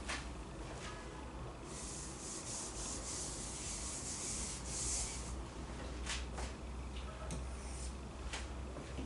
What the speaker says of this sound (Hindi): अब हम इसको रब कर रहे हैं